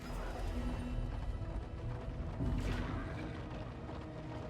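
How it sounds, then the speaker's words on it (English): Horse hooves clop along at a steady pace beneath a busy, noisy Darkest Dungeon 2 game soundscape, moderately loud and fairly close. "horse."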